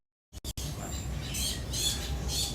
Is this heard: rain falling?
no